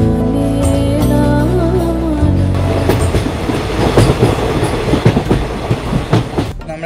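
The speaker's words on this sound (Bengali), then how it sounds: "এখন আমরা ট্রেনে উঠে পড়েছি, নয়াদি শিয়ালদা লোকাল।" A Sealdah-bound local commuter train in West Bengal runs loudly on the rails, heard from on board. A low rumble gives way to a steady, rhythmic clickety-clack of the wheels over the track joints.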